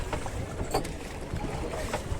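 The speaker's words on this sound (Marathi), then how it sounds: "मस्त बोटिंग चालली वेण्णा लेक" A pleasure boat moves across Venna Lake at a hill station, with soft water lapping and splashing against the hull under a steady breath of wind noise, plus a few brief knocks.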